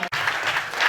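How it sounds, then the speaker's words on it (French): A church congregation at a Sunday service applauds for the Lord in a dense, continuous burst of clapping that fills the room after a brief pause. "Est-ce qu'on peut encore acclamer pour le Seigneur?"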